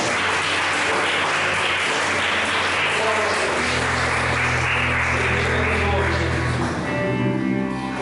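A church congregation at a Pentecostal worship service claps in praise, a loud steady patter joined by sustained music tones, with no talk.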